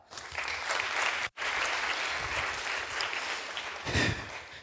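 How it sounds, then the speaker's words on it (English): An audience applauding at a talk, loud sustained clapping that drops out sharply for a moment, then resumes and swells briefly near the end. "How about a round of applause for Sarah Attar?"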